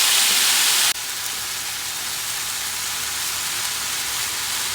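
Egg fried rice with soy sauce stir-fried in a pan, giving a loud, steady sizzling hiss that drops in level about a second in and then continues evenly.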